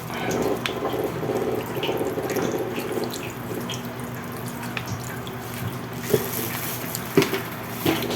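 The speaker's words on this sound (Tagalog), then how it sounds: "Saka lalagyan natin siya ng suka." Vinegar poured into a pork and tofu dish, a steady liquid trickle and splash running for several seconds, with a few sharper drips and clinks near the end.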